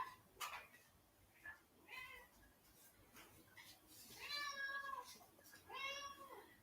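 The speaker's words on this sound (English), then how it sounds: "I also must feed my cat" A hungry cat meows while being fed, with a few short cries early on, then two longer, drawn-out meows near the end, close and fairly quiet.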